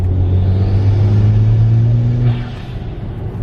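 BMW 335is engine pulling in 4th gear, a loud steady low drone with a sustained rumble that holds for a little over two seconds, then eases off as the throttle drops, recorded from inside the car.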